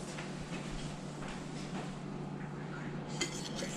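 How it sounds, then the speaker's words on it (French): Egg muffin batter being mixed in a bowl, with a utensil scraping and clinking faintly and continuously against the bowl over a low steady hum, then a few brighter clinks at the end. "je le mélange jusqu'à que ça soit uniforme"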